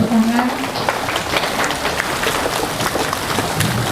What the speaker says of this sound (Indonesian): Baik, mungkin bisa diberikan tepuk tangan.